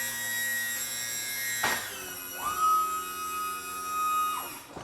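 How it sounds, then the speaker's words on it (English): Arms of a Stryker power cot autoloader dropping, a brief mechanical rush followed by a steady mid-pitched motor whine lasting a couple of seconds that winds down, close and moderately loud, with no talking. "that is the autoloader's arms dropping"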